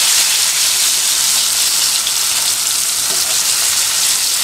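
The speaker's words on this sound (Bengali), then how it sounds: "দেখো একটু সময় নিয়ে ভেজে নিচ্ছি।" Eggplant slices fry in a small amount of oil over a low gas flame, giving a steady, close, hissing sizzle that holds even throughout, with no talking.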